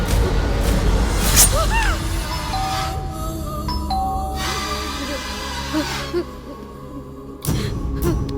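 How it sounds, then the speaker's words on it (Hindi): A doorbell rings with a two-tone ding-dong chime amid a busy dubbed film soundtrack, tones sounding between other effects and background noise. "पर किसी ने डोरबेल बजाया"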